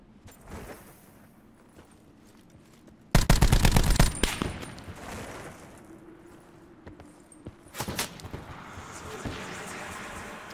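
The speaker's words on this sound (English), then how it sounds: "I got two people sniping at me" Sniper and rifle gunfire in Call of Duty Blackout, set in a ghost town, with a loud burst of shots near the start and a sharper volley later over quieter game ambience.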